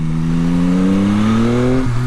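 A Yamaha XSR900 motorcycle engine revs steadily upward under load, a loud, close, continuous tone rising in pitch before a brief dip as the throttle changes, with wind noise underneath.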